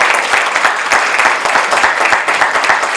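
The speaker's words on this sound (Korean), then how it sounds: "큰 박수가 필요합니다" Sustained applause from an audience at a youth forum lecture in Korea, dense and steady clapping throughout with no talking.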